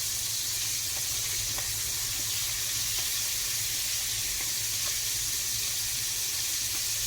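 Pieces of chicken frying in oil for homestyle fried chicken, giving a continuous loud, even hiss and sizzle with faint occasional pops, close up and without talk.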